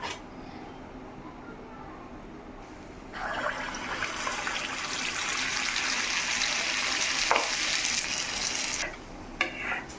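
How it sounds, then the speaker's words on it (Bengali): Malpua pancakes made from biulir dal batter go into hot oil, bringing a rising bubbling sizzle that swells after a quieter start and continues steadily before tapering near the end. "এখন পোয়াগুলা ভেজে নিব"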